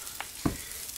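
Meat sizzling on a grill grate inside a home fireplace, with pork brisket and tenderloin on the upper tier and skewers below; a quiet, close crackle with one brief louder pop.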